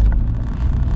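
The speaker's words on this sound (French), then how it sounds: "la première chose qu'on entend, c'est le moteur" The engine of a 2004 Mitsubishi Space Star 1.3 running, a low steady rumble heard from inside the car under wind and road noise, with no voices.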